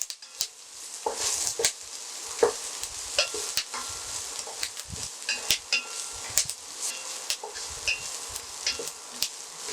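Sliced onions with salt fry in a pan for a South Indian drumstick sambar, giving a steady soft sizzle with intermittent scraping, clicking stirs of a spoon against the metal, close and fairly quiet.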